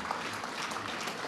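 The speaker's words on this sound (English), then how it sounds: "and for that, you need a round of applause" Audience applause at the official opening ceremony of Tortola Pier Park: a steady, dense wash of clapping that holds at an even level throughout the short burst, with no voices over it.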